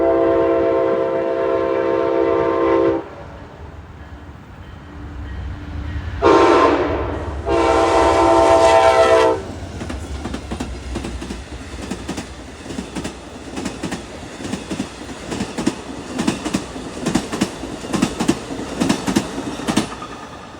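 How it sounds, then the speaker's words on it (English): Amtrak 49, the Lake Shore Limited passenger train, sounds two loud horn blasts at Chesterton, Indiana, then rumbles past with a rhythmic clickety-clack of wheels over rail joints. "Here's Amtrak 49, the Lakeshore Limited."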